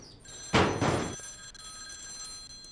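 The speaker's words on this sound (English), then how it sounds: "That's your phone." A phone rings in the X-Files video game, one loud electronic ring burst lasting about half a second, followed by quiet room tone.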